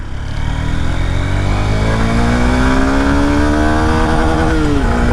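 A 2025 Honda NX 200 adventure motorcycle with a commuter-type engine revs up loudly and close, its pitch climbing steadily until it hits the limiter near 9000 RPM and briefly cuts out.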